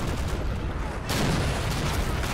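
Bazookas firing at tanks during an Army Men plastic-soldier battle game, a steady dense roar of blasts and gunfire that thickens into a louder barrage partway through, with faint voices underneath.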